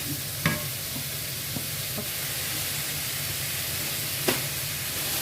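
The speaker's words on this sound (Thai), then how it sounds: "ก็มาผัด" Steady, loud sizzling from a hot pan of stir-frying mushrooms, with a few sharp scrapes and clacks of stirring over the constant hiss.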